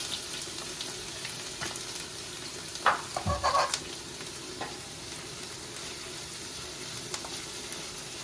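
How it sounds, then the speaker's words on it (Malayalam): Onions sizzle in well-heated oil in a pan for Kerala-style chicken chukka, a steady close crackle with a brief clatter of stirring partway through and no talking. "എണ്ണ നന്നായിട്ട് ചൂടായി കഴിയുമ്പോൾ ഈ ഉള്ളി കുറച്ചായിട്ടിട്ട് വറുത്തെടുക്കണം."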